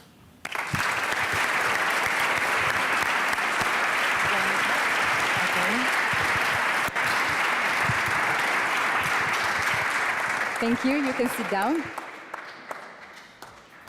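Loud, sustained audience applause at a European youth prize award ceremony, a dense wall of clapping filling the hall for about ten seconds before fading as a voice speaks.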